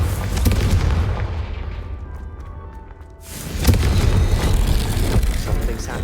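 A Confringo blasting spell in Hogwarts Legacy goes off as a loud boom with a decaying rumble, then a second heavy burst of blast noise follows.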